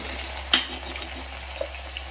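Garlic dropped into hot oil for a ridged gourd curry sizzles with a steady, fairly quiet hiss, a couple of brief crackles and pops breaking through near the start and again later.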